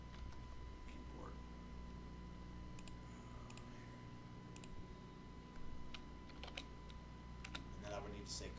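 Quiet computer keyboard typing, scattered keystroke clicks at irregular intervals over a steady low hum, faint and distant-sounding, with no talk over it.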